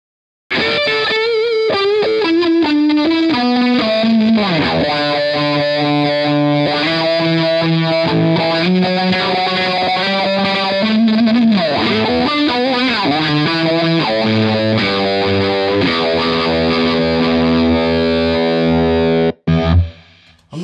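An electric guitar runs through a Digitech Jimi Hendrix multi-effects unit playing a song's second solo, with heavily distorted, chorus-tinged lead lines, sustained bends and fast runs, loud and continuous for about twenty seconds.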